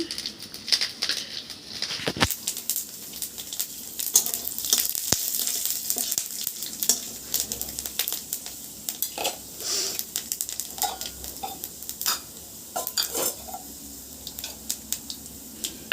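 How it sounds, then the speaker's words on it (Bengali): Panch phoron spices hitting hot mustard oil in a pan, crackling and sizzling continuously at close range, with sharp pops and occasional clinks of utensils. "তো আমি এবার দিয়ে দেবো এখানে 5 ফোড়ন"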